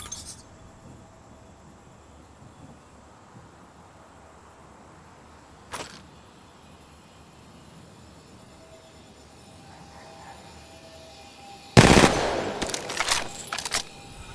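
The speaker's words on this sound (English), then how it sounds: "Opening fire." Gunfire in a shooter video game: a single sharp shot early on, then a sudden burst of rapid fire with clinking near the end, over a quiet, low background.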